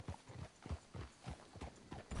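Horse hooves clip-clopping at a steady riding gait in the video game Red Dead Redemption 2, a continuous rhythmic clatter heard alone.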